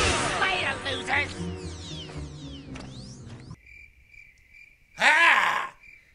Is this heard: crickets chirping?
yes